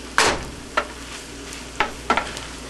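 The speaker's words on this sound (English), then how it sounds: "You want to really mix the rice up so that soy sauce gets on everybody." Fried rice tossed with soy sauce in a pan, scraped and stirred in four distinct strokes over a low frying sizzle, close and fairly loud.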